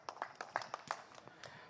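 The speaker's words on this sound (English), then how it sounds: "A big round of applause, ladies and gentlemen." Scattered hand claps from a small audience at a motorcycle racing championship prize ceremony, a handful of sharp separate claps spread irregularly over under two seconds, fairly faint and distant.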